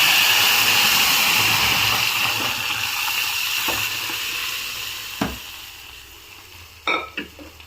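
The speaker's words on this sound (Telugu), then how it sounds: "ఆనియన్స్ బాగా వేగిపోయినాయి." Onions fry in a pan for Andhra mango dal, a close, steady sizzle that gradually softens, followed near the end by a few sharp clinks of a utensil against the pan.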